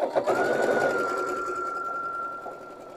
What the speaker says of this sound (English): And just sew it down at a 1/4 inch seam.